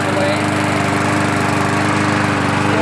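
A Murray 4.5HP push lawn mower engine runs steadily and loudly at close range, a constant droning putter with no pauses, burning off oil built up in the muffler.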